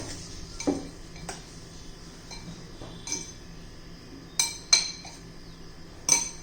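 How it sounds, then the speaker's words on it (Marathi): A metal spoon clinks against a bowl in a few separate sharp taps while black pepper powder and other spices are mixed in for egg bread patties. The taps are close and crisp over a quiet background. "हे सगळं व्यवस्थित मिक्स करून घेऊया"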